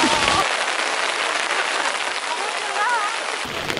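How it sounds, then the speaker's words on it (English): Hail hammers down hard in a dense, loud, unbroken hiss and patter during a big hailstorm at Lake Titicaca, Peru, near the Floating Islands of Uros, with faint voices underneath throughout. "We got a big hailstorm going on here"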